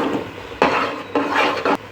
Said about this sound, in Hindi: चम्मच हमने चलाते रहना है, चम्मच छोड़ना नहीं है।